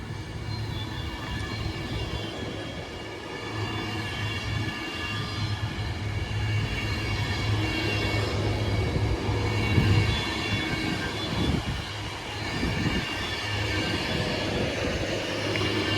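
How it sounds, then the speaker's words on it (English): Avanti West Coast Pendolino empty-stock train running through Northampton, a loud sustained rumble of passing carriages with wheel squeal and rhythmic clatter over the rails, steady for the whole stretch with no talking. "we're going to have an ECS Avanti West Coast Pendolino running from Liverpool Line Street to London"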